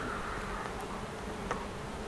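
Honeybees at an open backyard hive buzz in a soft, steady hum, faint but continuous, with no voices.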